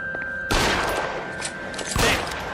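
Gunfire rings out in the 1940s detective game L.A. Noire, two loud bursts of shots about a second and a half apart over a steady background hum, with no talking.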